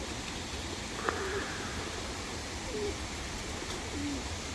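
Tumbler pigeons give a few faint, spaced coos over a steady outdoor hiss, with no talking.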